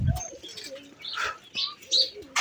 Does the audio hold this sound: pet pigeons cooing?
yes